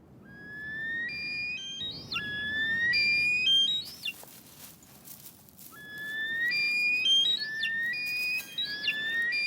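Snowcock cocks in the Caucasus mountains call in a territorial song contest, rising whistled notes repeating in overlapping bursts over a soft background hiss, moderately loud and carrying.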